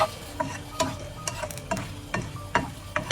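Chillies fry in oil in a pan, with soft continuous sizzling and repeated clicks and scrapes of stirring spaced through the moment at moderate, close level.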